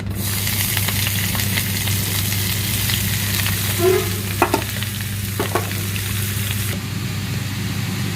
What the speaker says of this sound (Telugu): ఆయిల్లో బిర్యానీ లీఫ్ వేసాం కదా ఫ్రెండ్స్ తర్వాత ఆనియన్స్ వేద్దాం